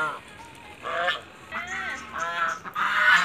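Geese on a farm honking in a series of loud, nasal calls, several overlapping bursts close by with short pauses between.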